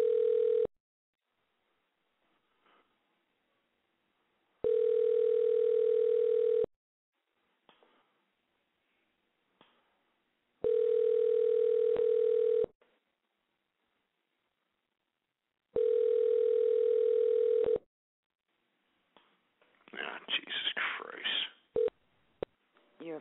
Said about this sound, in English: I'm just dialing random numbers.